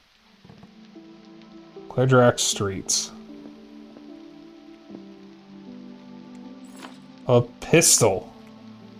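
Steady, soft rainfall in a King's Field-like dungeon-crawler game demo patters continuously in the background while a person talks over it in short bursts.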